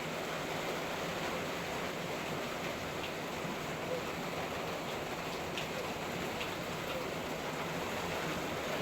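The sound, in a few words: heavy rain pouring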